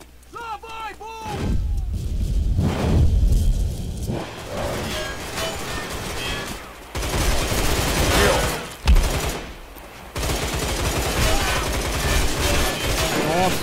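Heavy gunfire and explosions from a deathmatch in the video game Line of Sight: dense, continuous volleys with brief gaps, loud throughout, with a player talking over much of it.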